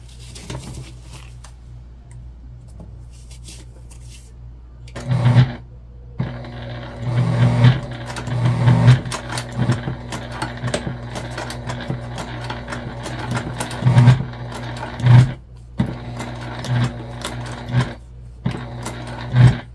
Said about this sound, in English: you can probably hear my machine is going through some thickness that it's having some trouble with